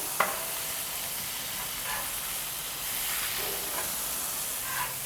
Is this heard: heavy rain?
no